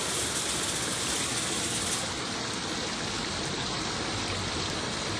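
Garden water feature with a gnome display, water flowing and splashing in a steady broadband rush, close and continuous with no voices.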